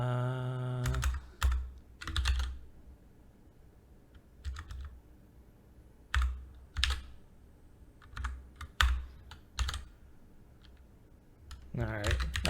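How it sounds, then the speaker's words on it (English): A computer keyboard typed on in short bursts of crisp clicks with quiet gaps between, close up, with brief speech at the start and the end. "we'll type mail in there"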